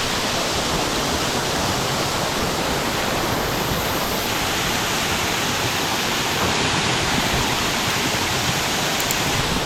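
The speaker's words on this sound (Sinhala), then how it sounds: "එන වතුර පාරක් වැටෙන්නේ." Steady roar of a waterfall pouring down in a jungle, a dense, continuous rush of falling water, loud and close, with no voices over it.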